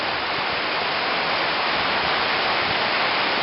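Floodwater rushing through Ridley Creek after record rain, a dense, steady roar of churning water that fills the whole clip without a break, loud and close, with no voices.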